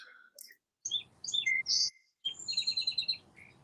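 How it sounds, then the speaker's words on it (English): Small birds chirp and tweet outdoors in bright, quick bursts, a few close calls separated by short gaps of near silence. "I hear birds chirping."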